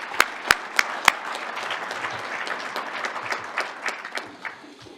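Luncheon crowd at a chamber of commerce event applauding university student athletes; a few sharp, close claps ring out first, then a broad, softer round of clapping from the room that gradually thins.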